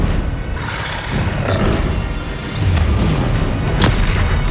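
Spell blasts and fiery explosions from the Confringo curse in Hogwarts Legacy burst out in loud, booming thuds over a roaring combat din, several sharp impacts landing one after another, with no voices.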